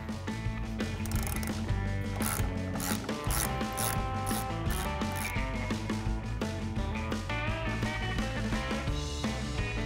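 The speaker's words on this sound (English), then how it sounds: "Now we're gonna take our 10 millimeter socket with an extension on our ratchet and we're gonna go ahead and just back this off." A ratchet with a 10 mm socket on an extension backs off a bolt while fitting an A-pillar light kit, giving rapid clicking bursts over a continuous loud tonal background.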